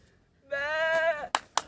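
A man imitates a goat with his voice, giving one drawn-out wavering bleat, followed by two short sharp sounds, close and clear against a quiet background.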